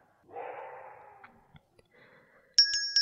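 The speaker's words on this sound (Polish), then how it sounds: "Dziwne te dźwięki, ale czekamy na dzwoneczek" A small bell rings a few quick times near the end, bright and clear after a stretch of soft snuffling and faint knocks.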